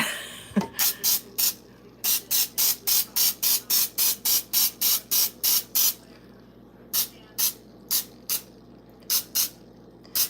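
Baking spray hisses from an aerosol can into the inside of a pan in a rapid run of short, sharp bursts, then a pause and a few more spaced spurts, loud and close.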